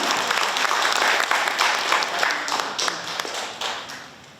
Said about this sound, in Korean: 오늘 북콘서트의 주인공이신 우리 원효희 의원님 박수로 맞이하겠습니다